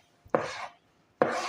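A knife chopping papaya into pieces, two distinct close cuts, each a sharp onset followed by a brief scraping tail, with quiet between.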